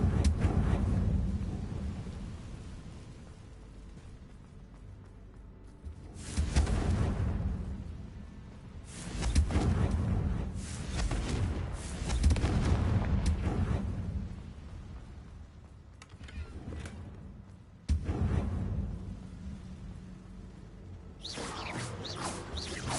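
Confringo blasting spells exploding in the video game Hogwarts Legacy, several loud bursts a few seconds apart, each followed by a rumbling tail, with quieter stretches between them.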